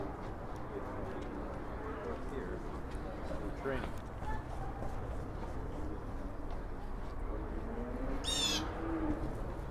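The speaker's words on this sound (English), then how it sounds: "Ooh, really loud birds." Birds call loudly in Central Park, New York City, on a Sunday in late March, with chirps rising above steady crowd chatter and city hum, while people talk nearby throughout.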